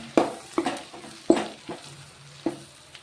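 A spoon stirring spiny gourd curry with chutney in a pan, a few separate scraping strokes with soft sizzling between them, close by and without speech.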